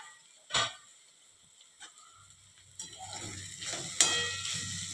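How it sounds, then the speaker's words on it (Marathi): Cluster beans (gavar) sabzi being stirred in a pan: a few sharp scraping clanks of the spoon against the pan, then a steady low sizzle of the cooking vegetables. "इथे मी भाजी शिजवत असताना अधूनमधून 1-2 ते 3 वेळा ही गवार अशी परतून घेतली होती"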